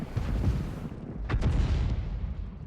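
A heavy tank cannon in World of Tanks, fighting a T14, fires with a deep booming blast that rolls on in rumble, then a second sharp crack and thud of the hit follows, loud with no talk.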